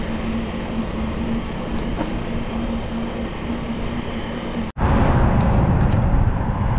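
Light rail transit trains rumble through a busy rail hub in Utah, a loud, steady rolling roar with a brief dropout and then a louder surge as a train passes close by.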